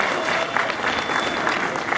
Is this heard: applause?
yes